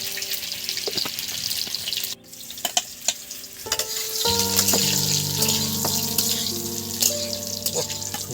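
Potatoes for a vegetarian Kashmiri cabbage ghonto are stirred in a frying pan with whole tempering spices, giving a steady close sizzle with repeated scraping and clinking stirs; the frying grows louder and fuller about halfway through.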